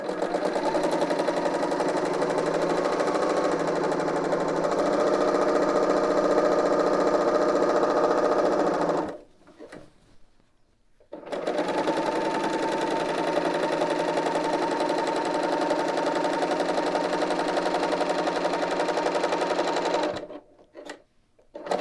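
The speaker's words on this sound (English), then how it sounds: "Now I'm just going to finish the seam allowance by serging it." A serger overlocking the seam allowance of a sewn skirt, running in a steady loud whir for about nine seconds, pausing briefly, then running again for another long stretch before stopping.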